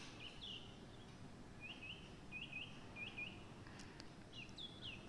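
Morning birdsong at a hilltop temple fort: short high chirps come in small clusters at irregular intervals, faint and distant, over quiet steady ambient noise with no voices.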